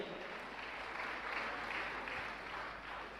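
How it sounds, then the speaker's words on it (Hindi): Audience applause at a Jain religious discourse gathering, a steady, dense wash of clapping from a large crowd that holds evenly throughout without voices on top. "मैं चाहूँगा ऐसे व्यक्तित्व के लिए आप जोरदार ताली बजाकर का सम्मान करें"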